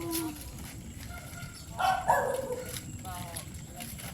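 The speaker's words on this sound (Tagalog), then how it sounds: "Mayroong aso dito." A dog barks a few short times at a moderate distance, with people talking nearby over an outdoor background hum, at a dam.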